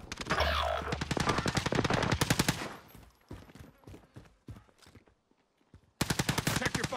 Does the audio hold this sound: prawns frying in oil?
no